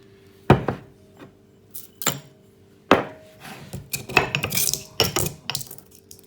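Spices are coarsely crushed for hypocras spiced wine. Sharp, close knocks and clacks come sparsely at first, then turn quicker and more irregular, with no talking.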